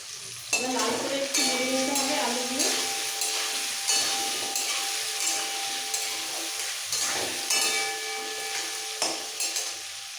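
Potatoes frying in hot oil with salt and turmeric, a steady close sizzle with scraping stirring strokes near the start and repeated spatula clatters throughout.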